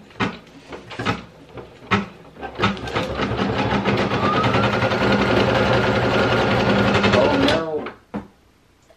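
Brother PE800 embroidery machine stitching an applique, a few separate knocks and starts first, then a steady, loud, fast mechanical whirring and clatter that runs several seconds before stopping near the end.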